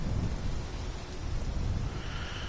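Steady rain and a low rolling rumble of thunder in the online game Fallout 76, a dense, constant wash of downpour with deep bass swells and no voices.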